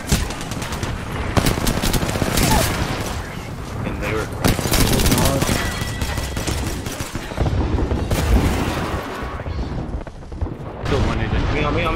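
Rapid gunfire from Apex Legends ranked play, with loud, dense bursts and explosive booms filling the whole stretch, and players talking over the shooting.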